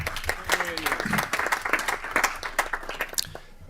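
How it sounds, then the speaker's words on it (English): Scattered clapping from a small audience in a state Senate committee hearing room, uneven and patchy, with voices murmuring underneath as it winds down. "Let's give Henry a round of applause also."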